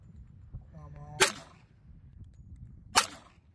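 At a shooting match, two sharp, loud shots crack about two seconds apart, each with a brief high ringing tail like a ricochet. A short voiced sound comes just before the first shot.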